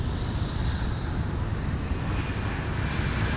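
An Airbus A320 airliner arriving from Denver touches down on the runway, its jet engines giving a steady, loud, broadband roar with wind noise throughout and no talk over it.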